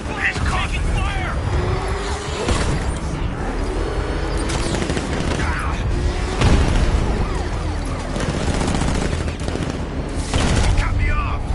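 Sustained gunfire in the Batman Arkham Knight action game, rapid shots rattling under loud booms and vehicle rumble, with voices talking over the barrage throughout.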